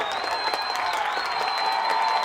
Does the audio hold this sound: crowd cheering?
yes